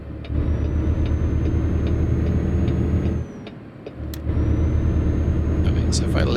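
A Caterpillar C-12 truck engine paired with an Eaton 8LL transmission drones steadily in American Truck Simulator, drops off for about a second during a gear change, then pulls back up to a constant hum.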